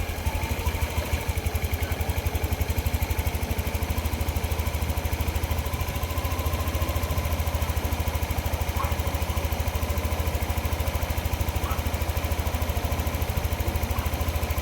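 A Yamaha Nmax 155 V2 scooter engine idles with an uneven idle fault, a faint steady mechanical hum and buzz held constant throughout, heard alone without talk.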